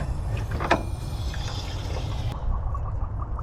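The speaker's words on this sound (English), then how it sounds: "got a water hose, so we're just gonna fill it up" Water from a hose running into the radiator of an abandoned 1976 Chevy K10 shortbed pickup, a soft steady trickle and splash with a few faint gurgles, heard alone without talking.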